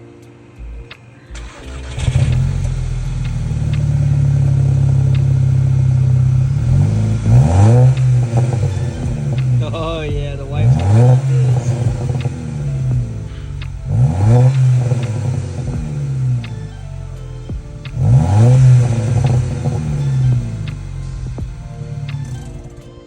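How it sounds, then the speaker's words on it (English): A Volkswagen GTI engine with a new Cobb exhaust cranks and starts, then idles loudly with several throaty revs rising and falling; someone speaks briefly over the rumble. "Got the new exhaust installed."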